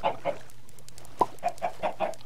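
Video-game chickens cluck in a series of short, clear clucks at an uneven rhythm, with one sharper squawk partway through.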